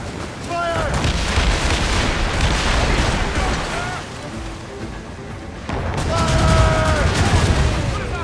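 Ship cannons in Assassin's Creed Rogue fire in a heavy naval battle, with booming shots and rumbling blasts layered densely, and voices shouting orders between the volleys.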